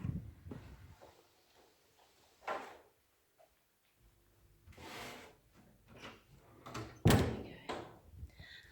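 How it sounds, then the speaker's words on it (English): Doors are opened indoors to release a wild bird, giving a few soft wooden thunks and latch clicks with a louder bump near the end, fairly close and otherwise quiet. "I will open the doors first so that we can let it out."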